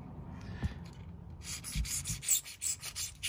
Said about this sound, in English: you hold it 90 degrees to it, and you scrape all around